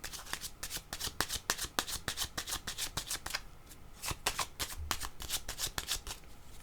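A deck of cards shuffled repeatedly by hand, rapid crisp riffling flutters in a steady rhythm, close and continuous without talk.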